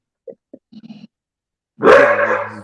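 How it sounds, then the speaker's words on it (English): Dogs at the front of a house: a few soft yips and whimpers lead into a loud, close, harsh bark that trails off into a drawn-out growl. "They just ran to the front and they started barking."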